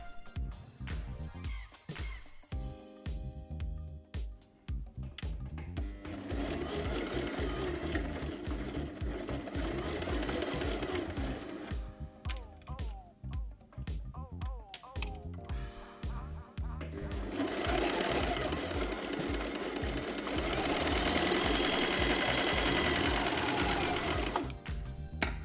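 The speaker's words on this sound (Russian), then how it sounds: "И ровненько сшиваем, чтобы шов был внутри." A sewing machine runs in long steady bursts, stitching lingerie pieces to a cotton lining, loud and close with a continuous mechanical whir and brief pauses between runs.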